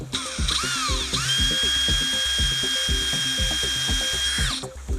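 A power drill boring through electrical boxes, its motor whining steadily near the mic while rhythmic knocks and rattling pulses repeat beneath it throughout.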